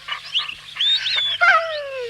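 César the dog gives a few short, high, whining yelps and barks that come close and clear, with nothing else around them.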